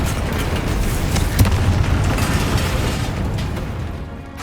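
A Confringo spell explodes in the video game Hogwarts Legacy, a loud burst with a sharp impact that trails off into a rumbling, crackling tail.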